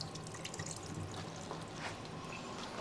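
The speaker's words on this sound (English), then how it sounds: "So I'm just going to run these under cold water," Cold tap water runs over sheets of dried yuba in a sink, a continuous close splashing and gurgling stream with small drips and no talking.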